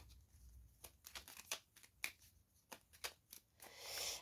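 A deck of oracle cards cut and handled during a card reading, quiet scattered papery snaps and slides, with a soft rustle building at the end.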